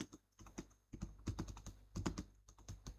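Fingers type on a computer keyboard in quick bursts of close, crisp key clicks with short pauses between words, faint and alone.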